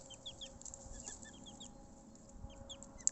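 A small red hen clucks softly in short, scattered notes, with other birds chirping faintly around her and no voices.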